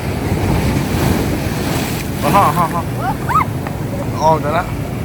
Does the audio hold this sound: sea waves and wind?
yes